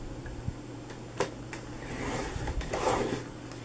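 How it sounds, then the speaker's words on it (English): Quiet scraping and a few light taps as paper for a snowflake bag is scored at 1 inch with a scoring tool, with a short rubbing stroke near the end and no talk. "we're going to turn it to the short side, and we're going to score it at 1 inch."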